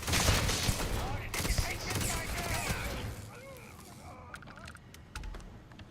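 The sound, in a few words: gunfire in the video game Starfield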